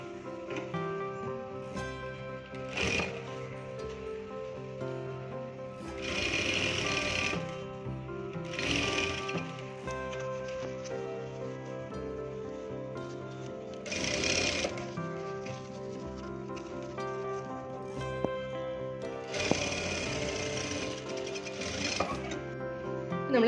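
A sewing machine stitches fabric for cigarette pants, running in several separate bursts of whirring and rattling, with quiet pauses of handling between runs.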